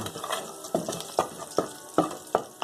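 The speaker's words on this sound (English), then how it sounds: "that's sizzling away quite nicely now" Chillies with seeds sizzling and crackling steadily in a hot frying pan, with regular scraping stirs punctuating the fry about every half second.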